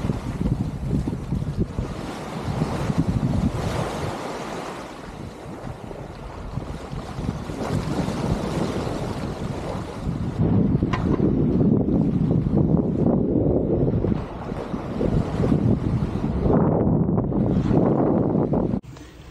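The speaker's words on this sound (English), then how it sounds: "the waves aren't that big out here. Maybe 2 or 3 feet. Well, it's pretty rolly though." A sailboat on a solo sail at sea rolls through waves two to three feet high, with strong gusty wind buffeting the microphone and water rushing and splashing against the hull for about twenty seconds, with no voices.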